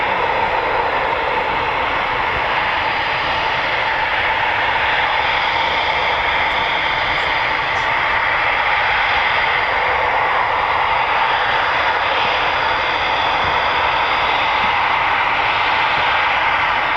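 A Eurofighter Typhoon FGR4 jet of 29 Squadron at RAF Coningsby, a loud, unbroken roar of jet power that holds steady for the whole stretch, no voices.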